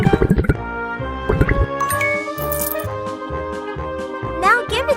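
In a kids' animal care hospital video game, tea is poured with cartoonish bubbly, plinking liquid sounds and sparkly chimes over a light music loop, while a voice speaks briefly at the start.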